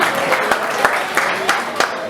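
Audience clapping at a blood donation camp, a steady crowd of hands with a few louder individual claps standing out at regular intervals, close and fairly loud.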